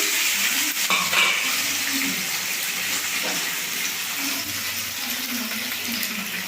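Paneer frying in a pan gives a soft, continuous sizzle with faint clinks and scraping of utensils now and then.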